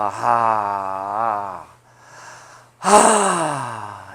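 A long, deep voiced exhale during guided breathing meditation, followed by a softer breath and then a second strong, breathy sigh, all close and loud.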